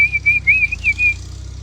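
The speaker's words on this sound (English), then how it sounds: "I'll just give them a whistle." A person whistles to call cows home, a loud close run of short warbling whistle notes lasting about a second over a low outdoor hum.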